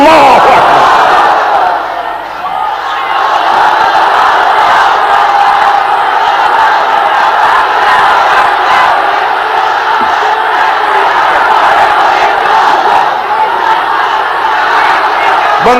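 A large crowd at an outdoor Islamic sermon gathering in Bangladesh chants the Takbir slogan, a loud, sustained roar of many voices filling the whole stretch.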